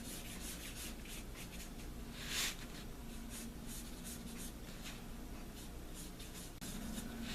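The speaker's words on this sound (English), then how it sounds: "I like to take a Sharpie and just kind of color it in." A Sharpie marker scribbles to color in an outline drawn on birch bark, a steady soft scratchy rubbing that runs continuously with one brief louder stroke partway through, close and alone.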